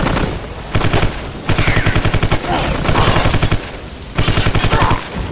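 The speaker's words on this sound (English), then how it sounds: "That bush is shooting at me." Enemy automatic gunfire in the shooter Vivisector: Beast Within, several loud rapid bursts of rattling shots separated by short pauses, close and dominant.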